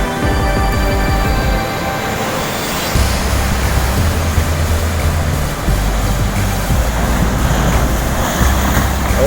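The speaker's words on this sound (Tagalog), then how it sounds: "Galit na yung dagat guys." Rough sea waves crash and roar in a loud, continuous wash of surf, with wind buffeting close by.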